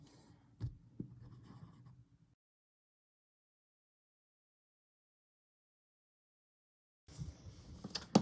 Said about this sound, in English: Go ahead and practice drawing a swirly line 2 more times.